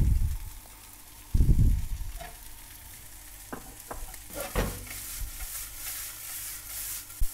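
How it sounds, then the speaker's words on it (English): Chicken chow mein noodles frying in a hot takeaway-style wok with bean sprouts, a close steady sizzle with stirring clatter and scraping, a heavy thump early on and sharp tossing knocks later. "Let it fry a couple of minutes. See, the noodles loosen up now."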